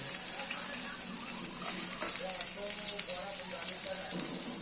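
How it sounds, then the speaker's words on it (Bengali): Chopped onions hit hot oil in a pan, giving a steady, close hiss of frying that swells slightly partway through and holds, with no talk over it. "তেলটা আমাদের গরম হয়ে গেছে, এখানে আমরা পেঁয়াজগুলো দিয়ে দেব।"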